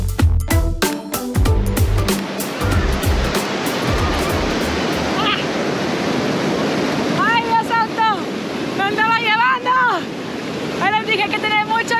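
Rushing river water at Tolantongo, a steady broad roar of flowing current heard up close, with a few high whistling or chirping tones rising over it in the second half.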